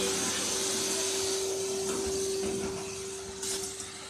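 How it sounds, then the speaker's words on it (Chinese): A self-service car wash vacuum cleaner runs with a steady, loud motor roar and a constant whining tone, unbroken and close by, with no talking. "我们就能听见吸尘器在工作"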